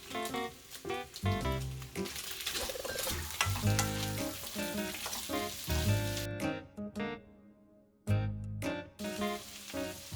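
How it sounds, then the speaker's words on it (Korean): Onions hiss and crackle as they are stir-fried in a pan for a potato stir-fry. Rhythmic scraping strokes of a spatula recur over the steady sizzle, with a brief lull before the frying surges back. "노릇하게 익으면 양파를 넣고 볶아줍니다."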